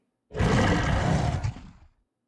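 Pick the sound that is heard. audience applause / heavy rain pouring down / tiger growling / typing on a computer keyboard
tiger growling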